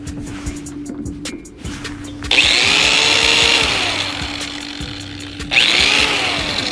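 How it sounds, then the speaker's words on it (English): An electric grinder is plugged into a 125 amp Harbor Freight flux core welder. It spins up twice with a loud motor whine that rises and then holds steady, after quieter handling noises. Nobody talks. "Plug my grinder in."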